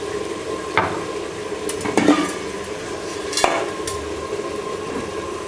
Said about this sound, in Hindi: इसमें शामिल कर देते हैं दाल